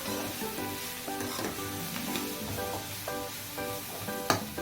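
Mixed vegetables with paneer cooking uncovered in a pan give a steady, close sizzle with occasional stirring scrapes, over faint background music.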